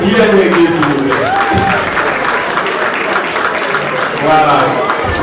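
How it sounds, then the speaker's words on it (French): An audience at a New Year's Eve rock-themed party in Canada applauds in a continuous, fairly loud spatter of clapping, with crowd voices and cheers mixed in over it. "Applaudissez pour Pierre Négué, s'il vous plaît."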